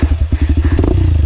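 A motorcycle on a trail ride in Ouro Verde de Minas chugs loud and close, its engine thumping in a fast, steady pulse with some clatter and no voices.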